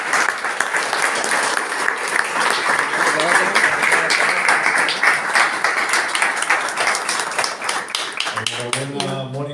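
An audience at a book fair in San Bartolomé applauds illustrator Mónica with loud, sustained clapping from many hands, and a voice starts speaking over the tail as it fades.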